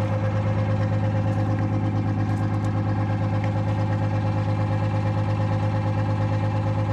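A bus engine that has been worked on and is still smoking idles close by, a loud steady low rumble with an even, continuous throb.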